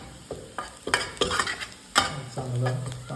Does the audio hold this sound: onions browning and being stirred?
yes